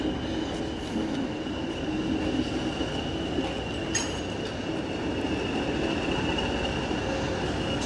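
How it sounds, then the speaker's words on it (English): An old British Rail diesel train pulls into Swanage, Dorset, a steady rumbling roll with faint wheel squeal. It is heard from a distance outdoors as one continuous sound throughout, with no talking. "You can probably just see a little diesel train coming in."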